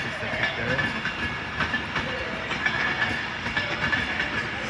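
Avanti West Coast Class 390 train at Crewe station on the West Coast Main Line, a steady rumble of wheels and carriages with faint clickety-clack and hiss, continuous and fairly close.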